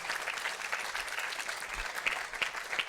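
An audience at a religious scripture discourse applauds with brisk, steady clapping from many hands, moderately loud and sustained throughout.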